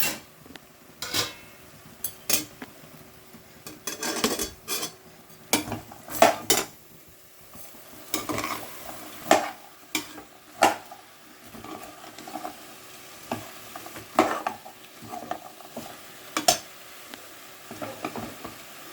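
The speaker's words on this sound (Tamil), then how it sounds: "இதுக்கு தேவையான உப்பு போட்டுட்டு நம்ம வதக்கிக்கலாம்" Mixed vegetables with peas and salt being sautéed in a pan for a white kurma, with repeated metal spatula clinks and scrapes in an uneven rhythm over a faint sizzle, close by.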